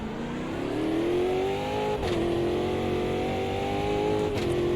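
A stock car engine in Automobilista 2 drones steadily through a lap, its pitch climbing and dipping with brief shift-like breaks near the two- and four-and-a-half-second marks, loud and continuous with no talk.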